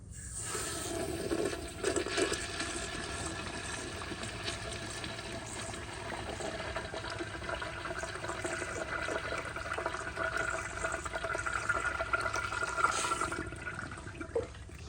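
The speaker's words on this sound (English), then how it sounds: "But here is a flush." A 1997 Kohler Dexter urinal flushes with a long rushing surge of water that swells and churns for many seconds, loud and close, with no voice over it.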